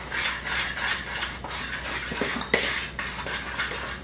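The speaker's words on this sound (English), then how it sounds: "I'm going to mix my flour up so it's got some good flavor" Seasoned flour is stirred in a bowl for cubed steak, a steady scraping and clinking of utensil against the dish with a few sharper knocks, close and continuous.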